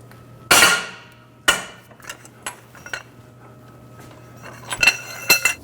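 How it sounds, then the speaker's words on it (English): Sharp metallic clanks and clinks from a crankshaft bolt holder and 19mm socket being fitted and levered while breaking a crank bolt free on a 2003-2008 Honda Pilot, a few loud close hits followed by scattered lighter taps. "Using the holder and a 19mm socket, we're going to break the crank bolt free."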